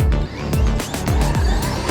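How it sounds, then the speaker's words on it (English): A Traxxas XRT RC truck brakes hard and skids on a dirt track, with repeated sharp tire scrapes and squeals in quick succession, close by. "we're both hard on the brakes into there"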